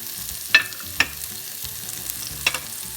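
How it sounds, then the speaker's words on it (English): Chopped onions frying with masala in a pan for a spicy garlic mushroom dish, a low steady sizzle broken by a few sharp clinks of a spoon against the pan at scattered moments, close by and with no voices. "I'll fry these onions with the masala until the onions get soft"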